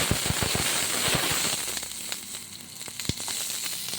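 Mutton chops with green chillies fry in a pan over a low flame, giving a steady close sizzle with scattered sharp pops and crackles, louder at the start and then settling, with no talking.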